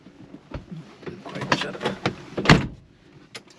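The door of a 1984 Avanti II with a Chevy 305 V8 is shut with a firm, heavy thud after some rustling and clicks inside the car, followed by a faint click.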